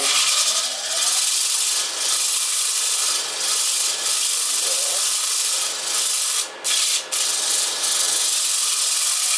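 Sandpaper rubs back and forth across turned wood in steady, hissing strokes, close and continuous, with a few brief pauses near the end.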